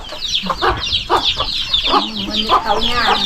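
Chickens clucking in a rural Thai village setting, a run of short close clucks and squawks repeating irregularly over a few seconds, with a voice talking faintly in the background.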